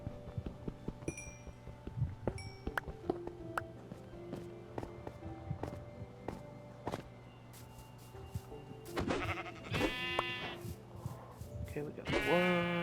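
Blocky video-game sheep bleat in Minecraft style, with a few short nasal bleats in the latter half over steady game ambience while someone talks nearby.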